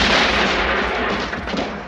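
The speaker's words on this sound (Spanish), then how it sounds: "apuntando en dirección al Tuco, mientras que este debe andar esquivando cañonazos." Cannon fire from the Western film The Good, the Bad and the Ugly, a dense, loud roaring blast of booms sustained for a couple of seconds.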